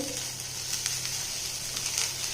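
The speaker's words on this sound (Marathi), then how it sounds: "आपल्याला मेथी यामध्ये चांगली परतून शिजवून घ्यायची आहे." Fenugreek leaves frying in a hot oil tempering with turmeric, a continuous close sizzle with a few brighter crackles and faint stirring scrapes, no voices.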